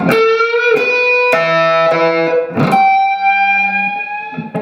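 A lick on distorted electric guitar, first section only: a few picked rakes and a long, slowly bent note held and sustained, with a low note ringing beneath, loud and close.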